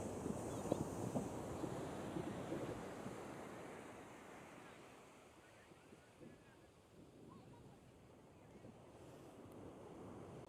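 Sea waves washing against the shore below a sand bank beside a church, a soft continuous surf rush mixed with gusty wind buffeting the microphone, fairly faint and steady.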